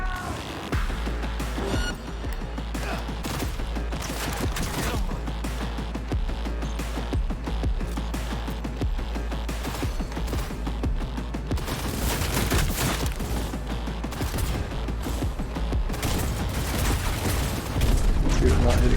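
Cyberpunk 2077 firefight with rapid bursts of gunfire cracking continuously and loudly for the whole stretch, mixed with voices speaking during the shooting.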